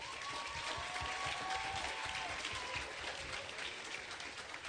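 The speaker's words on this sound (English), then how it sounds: "give a huge round of applause to our graduates" Audience applause for graduates at a secondary school graduation ceremony, a steady, dense clapping from a large crowd that holds evenly throughout, with a faint tonal whistle or cheer riding above it early on.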